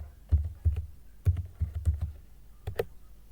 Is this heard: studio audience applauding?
no